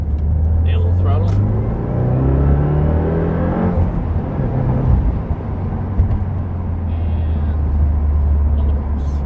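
A 2015 Subaru WRX with a Stage 1 tune accelerates hard from a stop in second gear, its engine note rising in pitch and loudness over several seconds, then settling into a steady low rumble under occasional speech.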